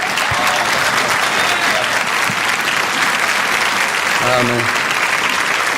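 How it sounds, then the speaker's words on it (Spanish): Loud, sustained applause from a church congregation standing to welcome the pastor at an evening Baptist service, steady dense clapping throughout with a brief spoken word rising near the end. "Vamos a recibir al pastor con un fuerte aplauso esta noche."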